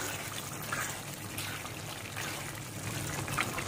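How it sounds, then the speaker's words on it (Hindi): Yogurt masala is poured into a pan of frying kaleji, giving a soft, wet pouring and sloshing under a faint, steady background hiss. "अब इसमें डाल देंगे दही का जो मसाला हमने बनाकर रखा था, वो डालेंगे।"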